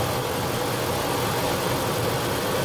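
A 1997–2004 Ford F-150 truck engine idles during a transmission fluid change. It gives a steady, even rumble that sounds close and continuous, with no voices.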